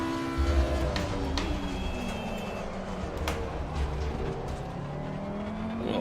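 A race car engine in a sim racing game drones steadily for several seconds, pitch sliding up and down through shifts, loud and continuous without voices.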